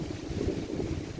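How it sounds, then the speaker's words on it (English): Wind buffets a phone's microphone outdoors, a steady rough low rumble with gusty fluctuations and no talking. "it's so windy I have to hold my phone steady"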